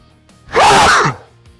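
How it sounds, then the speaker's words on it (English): A person lets out a single loud, close sneeze, sharp and brief, with quiet surroundings before and after. "I'm gonna sneeze."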